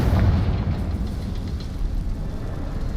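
Hogwarts Legacy's Confringo blasting spell sets off a booming explosion, loud at the start and then trailing into a rumbling roar that fades only slightly.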